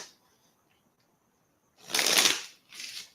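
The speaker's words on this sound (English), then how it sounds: "I just shuffled them backwards, half of them." A deck of tarot cards being shuffled: after a near-silent pause, one loud, crisp riffle runs for about a second, then a shorter, softer second shuffle follows.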